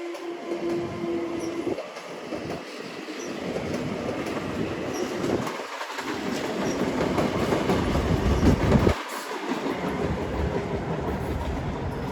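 A Long Island Rail Road M7 electric train races past at around 60 mph, a loud, sustained rush of wheels and rail noise with rhythmic clickety-clack and faint squeal, swelling toward the end, no voices.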